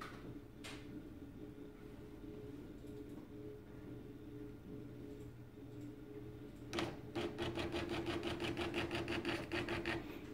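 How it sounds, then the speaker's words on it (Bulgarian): A myPOS card terminal's built-in printer prints a receipt: steady mechanical hum, then a rapid, loud train of regular clicking pulses as the paper feeds, close up with no talk. "това печатането на принтера, като разстрел общо взето."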